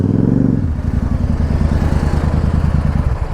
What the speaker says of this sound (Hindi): पहाड़ों में बाइक की आवाज़ें गूंजने का मज़ा ही कुछ अलग से ही है।